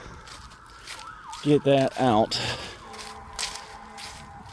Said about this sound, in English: hear the lovely old sirens in the background